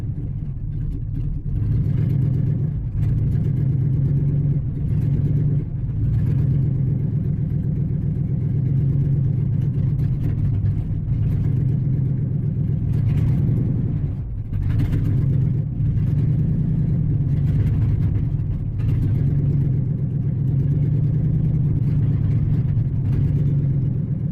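A vehicle engine runs poorly as it runs out of gas, a loud, low, rough rumble that surges and dips unevenly and briefly sags midway, continuing close by for over twenty seconds.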